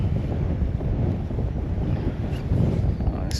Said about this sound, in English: Oh, this wind is so difficult.